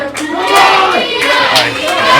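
Wrestling crowd at an EPW Scars and Stripes event applauding loudly and steadily, a dense wash of clapping close by with scattered voices mixed in.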